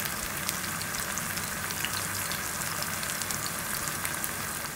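Potatoes frying gently in a pan over a low flame, producing a quiet, even hiss and crackle that continues without pause and with no voices.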